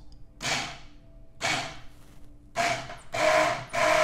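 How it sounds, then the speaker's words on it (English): An immersion blender pulsing at the bottom of a jar of MCT oil keto mayonnaise with lemon juice and salt: four short whirring bursts, the first two separated by pauses, the last two longer and closer together, loud and near with no talking. "put the immersion blender right to the bottom, okay? Slowly pulse"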